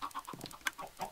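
Minecraft chickens on a farm give a few soft, short clucks in a quiet setting, closely spaced over about a second with no talking.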